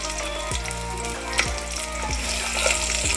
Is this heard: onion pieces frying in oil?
yes